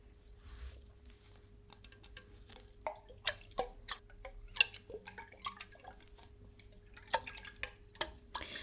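Water pours and drips in a quiet indoor setting, a run of small, close splashes and droplets with a few faint glassy clinks, spaced irregularly and carrying on without any talking.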